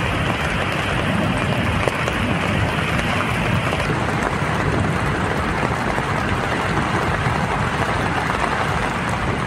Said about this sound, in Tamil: இந்நிலையில் ஜம்மு காஷ்மீர் மாநிலம் உதம்பூர் மாவட்டத்தில் திடீரென்று ஆலங்கட்டி மழை பொழிந்தது.